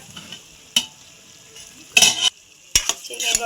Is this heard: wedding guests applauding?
no